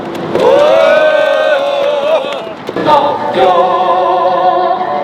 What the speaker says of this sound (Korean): 참석하신 동지들의 힘찬 박수와 함성으로 시작하겠습니다